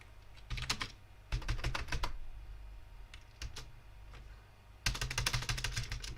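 Rapid clicking of a computer keyboard in bursts, close and crisp, with short pauses between flurries of keystrokes and no voices.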